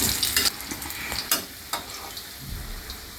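Bottle gourd (lauki) koftas made with gram flour sizzle steadily in a pan of hot oil, with a few louder crackles and spatters as they are turned over the flame; no voices.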